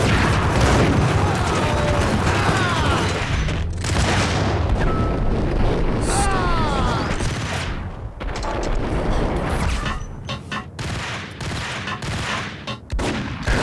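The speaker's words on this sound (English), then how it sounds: "Where the fuck did that grenade come from?" Chaotic gunfire and a grenade blast from the video game Max Payne rumble continuously in heavy, booming bursts, loud and dense throughout.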